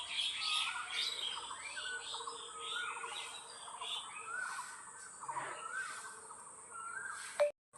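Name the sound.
birds chirping in the morning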